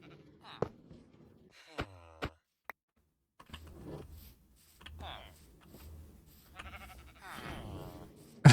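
Sheep in a survival video game let out several short, wavering bleats at intervals, with quiet clicks and soft game noises between them.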